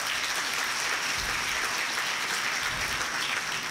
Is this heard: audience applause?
yes